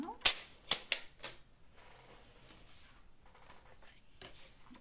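Crisp paper creasing from a craft kit, a quick run of four sharp scraping strokes near the mic as fold lines are scored, followed by quieter rustling and handling, with a later soft swipe.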